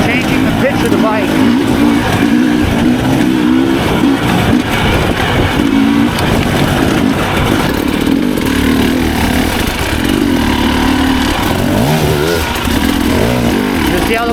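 Dirt bike engine revving hard as the rider throttles up a rocky ledge on an Arizona trail, a loud, near, continuously rising and falling motor whine with someone talking over it.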